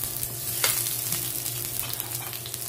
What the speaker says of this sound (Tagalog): Lagay po natin yung sibuyas.